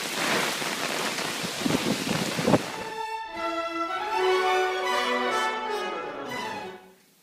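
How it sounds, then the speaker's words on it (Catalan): A heavy rain downpour during a thunderstorm roars loud and dense for a few seconds, then gives way to a sustained tonal sound that fades out at the end. "Ens atrevim a sortir sota l'aiguat."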